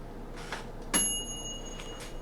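A single bright bell ding rings out once, clear and ringing with a short decay, isolated against quiet background.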